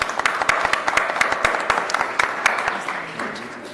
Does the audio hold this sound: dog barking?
no